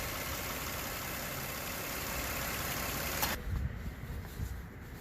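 A 2003 Toyota Camry engine idles steadily with a dense, even rumble, then cuts off abruptly partway through, leaving a quieter background with a few faint knocks and rustles.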